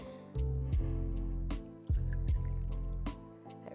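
Bourbon whiskey poured for a Manhattan cocktail, a close, gurgling glugging stream with a steady low rush, interrupted by brief pauses and small splashy onsets as the pour restarts.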